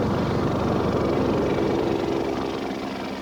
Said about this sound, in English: The choppers escort every plane using Kabul Airport.